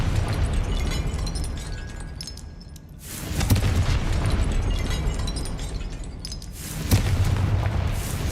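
Confringo fire spell blasts in the Hogwarts Legacy video game: heavy booming explosions with crackling debris, one swelling in around three seconds and another striking near seven seconds, over a constant rumbling roar.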